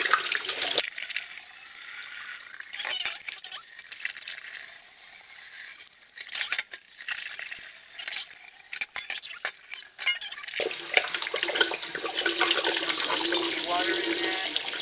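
Tap water runs and splashes as soap is rinsed out of plastic bottle caps in a sink for kombucha brewing, with intermittent clinks and handling noises, a gap in the flow midway, and then steady running water again near the end.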